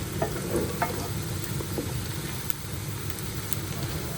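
Onions sizzling steadily in a pan over the heat, a close, continuous frying crackle with occasional faint stirring clicks and no voices.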